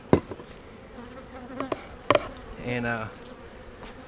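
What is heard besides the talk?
honey bees buzzing around a hive split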